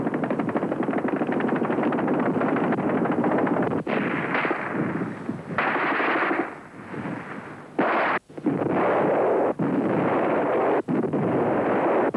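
Artillery and gunfire during the wartime assault on the Maubeuge fortress, a loud, continuous roar of blasts and rapid firing broken by sharp cuts and sudden bursts throughout, with no voices.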